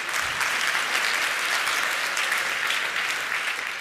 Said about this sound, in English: Please give a warm round of applause to Jake